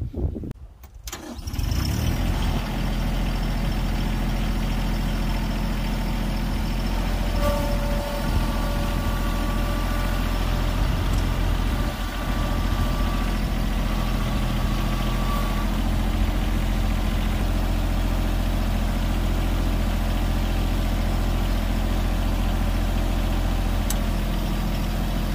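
A Bad Boy 3026H compact tractor engine starts and then runs steadily at close range as it tows a trailer around a property, a constant low rumbling drone for the whole stretch with faint higher tones drifting through.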